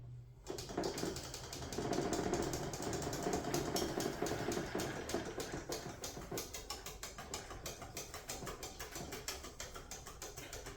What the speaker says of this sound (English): I might scrub this one down the bore and then run another wet one afterwards.